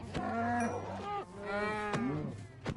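Cows in Minecraft mooing loudly and close, several drawn-out moos one after another with short sharp game clicks between them, no talking.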